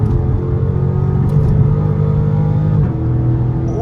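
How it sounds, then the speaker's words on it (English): Dodge SRT accelerating through traffic in the morning, a loud steady engine drone with a brief dip near the end as the transmission shifts, heard from inside the car with no talking. "Ooh, boy, that transmission shift sounds so good."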